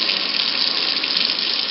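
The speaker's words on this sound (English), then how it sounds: "This is the actual sink in the kitchen, and that's flowing pretty well." Tap water runs steadily from a kitchen sink faucet during a home inspection flow test in Carrollton, Texas, a continuous close hiss with no talk over it.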